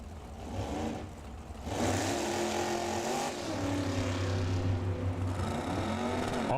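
A Mustang and a 1968 Nova convertible launch in Super Comp drag racing at Firebird Motorsports Park, engines rising into a loud, sustained roar with climbing pitch, heard from trackside.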